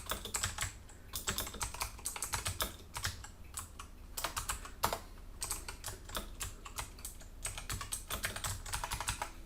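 Steady, rapid typing on a computer keyboard, a dense run of close, soft key clicks with short pauses between bursts, lasting throughout.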